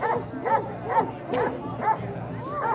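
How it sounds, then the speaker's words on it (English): Police dogs bark at a street protest outside a detention center, a string of about six sharp, evenly spaced barks, moderately near, with crowd noise and talking underneath. "And they got dogs out here."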